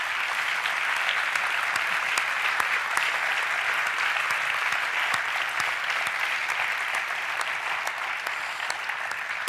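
An audience applauds at a XtraTónal 2018 talk event, a dense, sustained clapping from a full room that stays steady and loud throughout with no voices.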